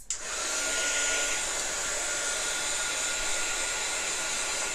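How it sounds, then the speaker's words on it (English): A handheld craft heat tool blowing hot air to dry freshly painted spoons: a steady, loud whooshing hiss that switches on abruptly and then runs constant and unbroken, with no talking. "if you don't want to wait until it air dries, you definitely can use your heat tool, and that will speed up the process"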